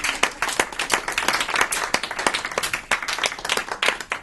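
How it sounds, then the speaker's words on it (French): An audience at a talk applauds steadily, a dense, even patter of many hands clapping that fills the whole stretch without pause. "Je pense qu'on peut l'applaudir."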